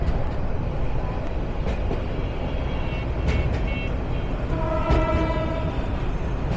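A Down Jamalpur Commuter Express train rolls into Dhaka station on a curve, a loud steady rumble of wheels with clanks and high metallic flange squeals heard from close by.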